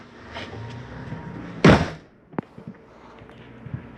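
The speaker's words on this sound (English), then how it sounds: "And we'll close our door." The entry door of a 2021 Mesa Ridge 373RBS RV is swung shut with one close, solid slam, followed by a few quieter clicks and knocks.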